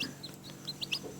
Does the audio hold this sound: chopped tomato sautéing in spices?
no